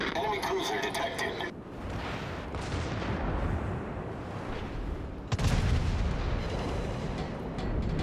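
A battleship fires its shells in a naval combat game, with deep booming salvos and a sharp loud report near the end over a rumbling background.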